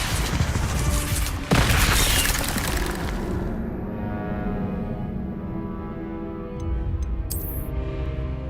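In Hogwarts Legacy, the Incendio fire spell goes off with a loud burst and crash, a sharp blast near the start that fades into a lingering rumble and crackle, with faint chimes near the end.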